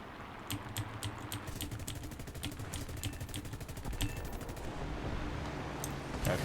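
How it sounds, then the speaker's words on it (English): Rapid bursts of machine-gun fire from a fighter plane in a combat flight game, repeated in quick clicking rattles over a steady engine drone, with no talk. "I'm going to pop off a few shots on him real quick."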